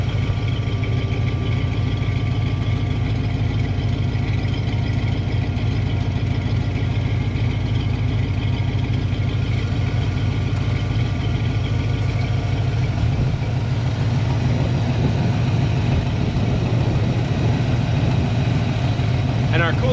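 A Ford Mustang Foxbody idles while warming up, a steady low rumbling drone that stays loud and even, with a slight shift in tone near the end.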